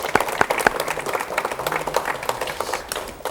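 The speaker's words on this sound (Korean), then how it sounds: "박수로 맞이해 주십시오" A Korean studio audience claps to welcome a military expert guest onto a 1985 talk show, a dense, fairly loud run of many hands that keeps going without a break.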